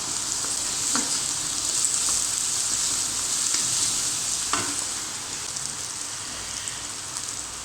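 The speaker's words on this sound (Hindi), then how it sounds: "अदरक और लहसुन का मैं पेस्ट डालने लगी हूँ। इसे भी साथ ब्राउन करती हूँ।" Ginger garlic paste for a chicken vegetable spaghetti sizzles steadily in a hot pan, a continuous broad hiss with a few soft stirring scrapes and no talking.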